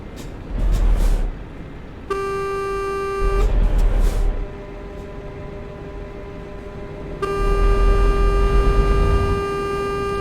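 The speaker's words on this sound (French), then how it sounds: "arrêtez de klaxonner" Trucks in a convoy sound long, loud horn blasts, with two sustained tonal honks over rumbling engines and bursts of traffic noise between them.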